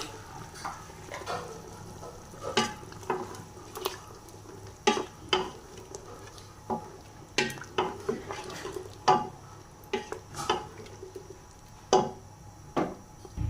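Salted meat roast dished out of a pot with metal utensils, a run of scattered clinks and scrapes against the pan over about fourteen seconds, moderately close with no voices.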